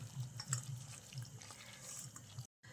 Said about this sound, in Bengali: যে বাটিতে মাপ করে সুজি দিয়েছি সেই বাটির 1 বাটি আমি জল দিয়ে দেবো।